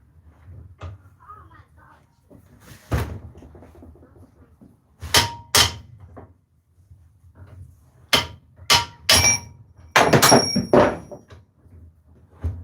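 A bench vise in a blade-making workshop jamming as it is unscrewed, heard as a series of loud, close metallic thunks and clanks in bursts, with quieter handling noise between them.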